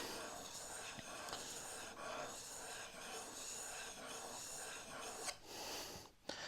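A chisel is rubbed back and forth on a sharpening stone by hand, giving a quiet, steady rasping scrape with soft breathing beneath and brief pauses.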